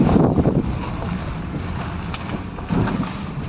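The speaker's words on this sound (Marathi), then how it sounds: "प्रचंड वारा सुटला आहे इथं" Strong wind gusting loudly across the microphone on a foggy road during heavy rain, a steady broadband roar with rumbling buffets that ease in the middle and surge again near the end.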